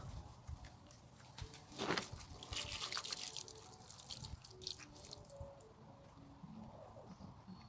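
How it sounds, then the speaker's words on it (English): Water poured from above splashes and trickles onto the soil of freshly planted regrown herbs, with a brief burst of dripping and splashing near the start followed by quieter wet trickles. "So now that will do, and then I'll add water."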